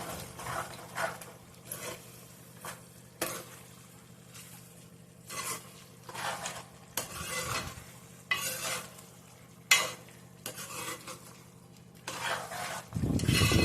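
Mutton curry is stirred in a sizzling pan, the spoon scraping and clinking in repeated strokes roughly every second over a low frying hiss, close and with no talk.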